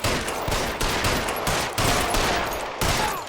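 Dense bursts of rapid gunfire from the video game L.A. Noire, loud and sustained with brief gaps between volleys, no talking over it.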